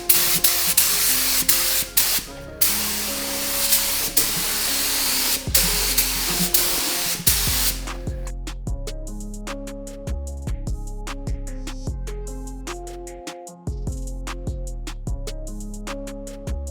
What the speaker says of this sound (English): always spray the hardest parts first, like all the little gaps and like the little tight areas